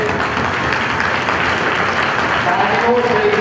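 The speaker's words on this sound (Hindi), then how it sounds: "तालियां जोरदार बजे" Loud, continuous audience applause at a youth parliament in Siwan, a thick wash of clapping close by with a voice faintly heard over it.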